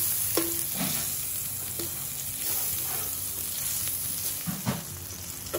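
Two tablespoons of butter sizzling in a pan while cooking chicken macaroni soup: steady, loud frying hiss with occasional utensil scrapes and stirring knocks, no talking.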